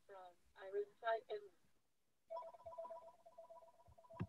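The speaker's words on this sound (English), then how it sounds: "I don't know how to mute my phone from here." A phone rings in bursts during an online symposium talk: a person speaks first, then an electronic ringtone plays a steady repeating warble at moderate volume through to the end.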